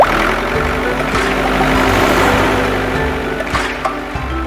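A tractor engine runs steadily at idle, a low continuous rumble holding even and fairly loud with no speech over it.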